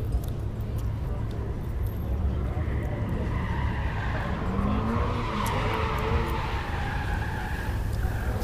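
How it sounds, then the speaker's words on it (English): Car tires squealing somewhere in the distance at the SEMA auto show, a long high screech running under crowd noise and nearby talk in a busy exhibition hall. "Still hear the squealing in the background."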